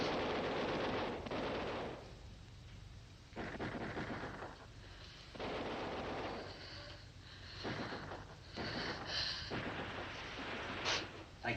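Gunfire and artillery in a black-and-white war film: repeated bursts of distant booming and crackling shots in several waves, fairly faint, with no voices over them.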